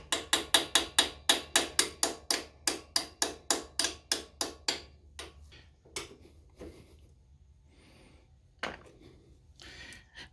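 Part on Harley Davidson Fatboy floorboards being tapped loose with a hammer: a rapid, even run of about twenty sharp close metallic taps, then a few sparse, quieter knocks and clicks.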